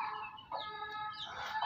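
Hens cluck softly inside a large coop on a hot summer day, a few overlapping calls close by over a low background hum.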